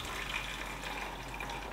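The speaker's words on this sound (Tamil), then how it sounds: "இப்போ தண்ணியை வடித்து எடுத்துப்போம்." Hot water pouring off parboiled rice as it is drained for Hyderabadi chicken biryani, a steady close splashing and trickling that runs throughout without any talk.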